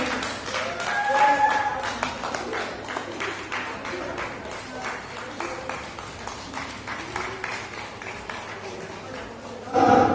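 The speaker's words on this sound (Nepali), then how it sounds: "एकबार जोरदार ताली बजाइदिनुहोस्।" An audience claps for a solo dance performance at a Gorkhali women's Haritalika Teej festival in Dehradun, a sustained patter of many hands going on throughout, with a brief louder burst near the end.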